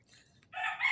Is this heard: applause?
no